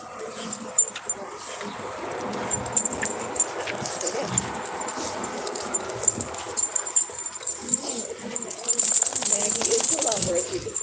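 Rottweilers make soft whimpers and small yips, with jingling tags and movement noises, while people talk nearby. A louder burst of activity comes near the end.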